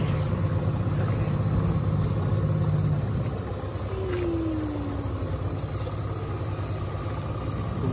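A dinghy's outboard engine running, a steady low droning hum close by that dips slightly partway through, with a brief rising whine passing over it.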